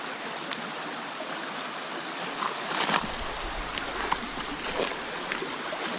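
Creek water flows in a continuous, fairly loud rushing wash, close by, with a few small splashes and knocks and no talking.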